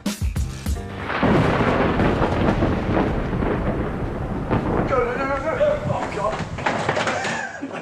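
Thunder from a lightning storm rumbles low and continuous for several seconds beside a bay, with people talking over it.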